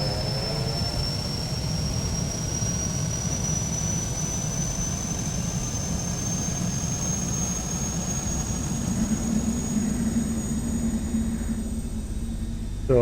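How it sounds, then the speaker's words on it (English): A Cessna Caravan C208B turboprop engine in a flight simulator game spools up at startup, a steady loud turbine roar with a rising high-pitched whine sustained throughout, no voices. "Aircraft starting up."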